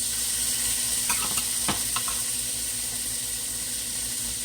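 Potatoes fry in hot grease in a skillet with a loud, continuous sizzle throughout, broken by a few brief scraping clatters as they are stirred and moved around.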